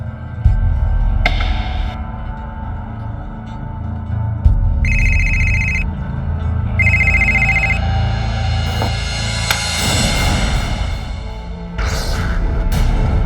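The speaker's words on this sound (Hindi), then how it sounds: "फोन लगा लास्ट डायल नंबर पे।" A telephone rings in bursts as a call goes to the last dialed number in a crime drama scene, with loud, bright trilling rings over a dense background of dramatic music and sound effects.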